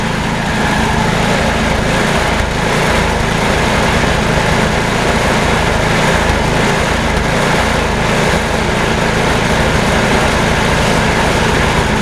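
An MTD snow blower's small engine runs steadily at half choke, a loud, continuous buzzing drone that holds at close range throughout with no talking.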